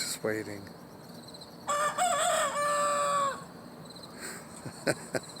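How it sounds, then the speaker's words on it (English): A rooster crows once, loud and close, with a drawn-out, unusual call; a few clucks and a short spoken remark come before it. "So this is my first time hearing the rooster crow."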